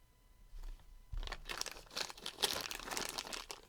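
Plastic bag crinkling as a board game figure from a Mythic Mischief Vol II set is put back inside it; close, continuous rustling and crunching that starts quiet and grows louder after about a second, with no talk.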